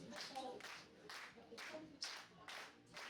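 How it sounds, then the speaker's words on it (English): An audience claps along with a live song, a faint, steady beat of about two claps per second held evenly throughout, with soft vocal sounds underneath. "I want y'all to clap your hands like this."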